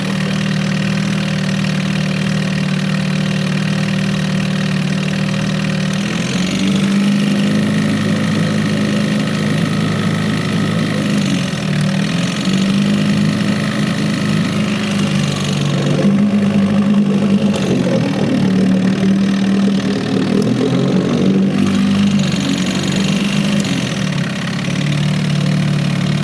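An Evinrude 4hp Excel outboard motor runs in a water test, idling with a steady mid-pitched drone. The drone shifts and surges in tone several times as the motor is lifted and set back down.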